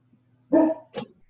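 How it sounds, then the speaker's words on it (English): A single dog gives one loud bark close by, followed by a shorter second bark, over a quiet low hum. "No barking."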